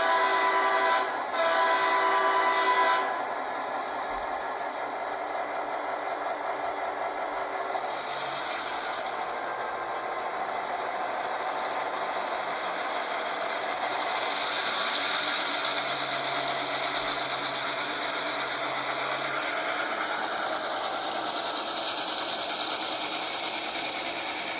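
A Rapido GP38 model locomotive pulls ScaleTrains Gunderson hopper cars past in a run-by, a steady close rumble of wheels and motor on track, with a brief horn-like tone early on.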